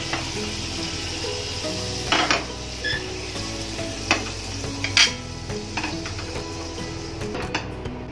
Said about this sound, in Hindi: मी दोन्ही साईडला बटर लावलंय, स्लाइसला पण आणि खाली पण टाकले, त्यामुळे छान खरपूस भाजलं जातं ते